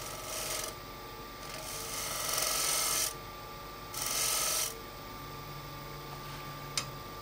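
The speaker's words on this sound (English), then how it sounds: "I'll try shear scraping with the gouge here." A gouge shear-scraping a spinning blank of wood and crayon on a lathe, a continuous close rasping scrape that swells and fades in several passes over the lathe's steady hum, with one sharp click near the end.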